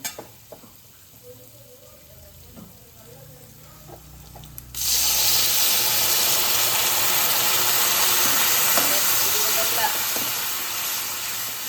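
Water poured onto jaggery heating in a pan sets off a sudden loud, steady steam hiss and sizzle that follows a quiet start and holds strong for several seconds.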